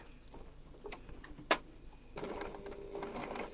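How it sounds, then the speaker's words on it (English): A domestic sewing machine stitches fabric in a short quiet burst, its soft rapid ticking and whirring gathering pace after a sharp click midway. "So up to the sewing machine."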